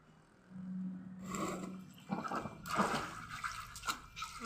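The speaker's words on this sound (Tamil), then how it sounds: "சூப்பர் தவளை மாதிரி பண்ணுறான் தைரியமா குளிக்குது பாருங்க மாஷா" Young boy splashing and bathing in water outdoors, a run of close, uneven watery splashes and rubbing sounds at moderate level, with a brief low hum at the start.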